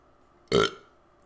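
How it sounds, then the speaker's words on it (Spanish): A single loud, close burp lasting about a quarter second, bursting out of near silence and tapering off quickly. "¿Podré tirarme un eructo que dure hasta el final del vídeo?"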